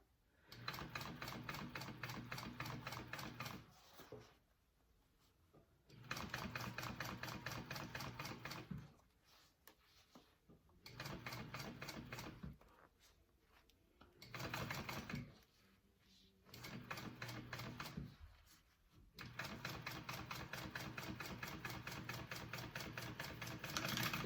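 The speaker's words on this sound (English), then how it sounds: "Okay, and then I'm going to sew along the other side." A sewing machine stitches a seam on a hobo bag, running in several bursts of rapid mechanical whirring and clatter separated by short quiet pauses, close and clear.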